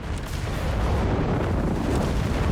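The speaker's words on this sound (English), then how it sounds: "Stuckers is firing away there." Stuka zu Fuss rocket artillery fires in a Company of Heroes 3 battle, producing a dense, continuous rumble of launches and explosions with no clear pauses.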